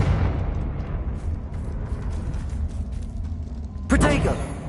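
In the Hogwarts Legacy video game, the Confringo fire spell bursts amid a continuous low rumbling din, with one sharp, loud blast landing near the end.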